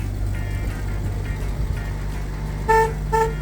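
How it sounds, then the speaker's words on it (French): The horn of a 1959 Chevrolet sounds in two short, loud toots near the end, over a steady idling engine hum close by. "Y a-tu un klaxon?"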